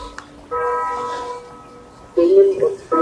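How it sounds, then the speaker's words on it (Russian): Church bells ringing at an outdoor flea market in Lohr am Main, Germany, heard as sustained tonal strikes in the middle distance with voices and market chatter around them. "Смотрите, и колокола бьют, и все вот так."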